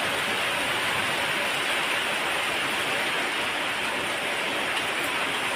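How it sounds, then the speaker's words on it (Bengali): Heavy rain pours down steadily during a stormy day in Pirojpur, Bangladesh, a dense, unbroken hiss of falling water that stays loud and constant throughout with no voices. "ভালোই বৃষ্টি হচ্ছে।"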